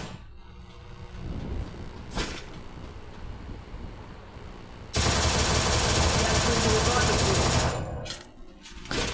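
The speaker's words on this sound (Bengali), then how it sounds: "ছাদের উপরে এনিমি আমাদের উপরে লুকায় লুকায় ভাই ফায়ার দিচ্ছে" Rapid automatic gunfire from an enemy hidden on a rooftop in a shooter video game, heard as a dense sustained burst in the middle of the clip over a busy game soundscape.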